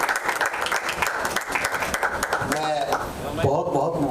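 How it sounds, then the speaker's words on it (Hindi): Audience applause welcoming a guest at a song launch event, brisk continuous clapping with voices and a speaker talking over the end. "जोरदार तालियों के साथ स्वागत करते हैं"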